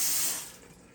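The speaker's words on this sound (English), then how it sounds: "Don't forget to rinse your meat." Tap water runs into a sink while baby back ribs are rinsed, a close, loud gush that quickly tapers to a softer trickle within about a second, with no voices.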